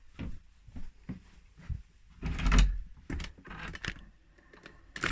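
Several sharp knocks land on a wooden chamber door, followed by the clatter of the door opening as someone comes in; the sounds are close, irregular and loud, with no talking.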